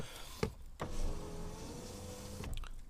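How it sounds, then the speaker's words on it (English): A car's electric power window motor runs steadily with the ignition off, powered straight from the battery, a close, strong whine lasting a couple of seconds between the clicks of the switch at start and finish. "the windows work as normal, nice and strong, even with the power"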